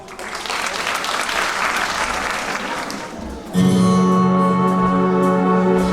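An audience at a concert of Bulgarian film songs claps steadily for a singer and a modern dance club, then the applause gives way abruptly to sustained tonal music.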